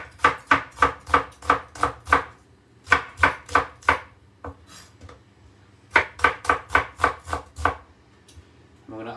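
A knife slicing a small red onion on a cutting board, brisk runs of crisp, evenly spaced chops in three bursts with short pauses between, close and clear with no talking.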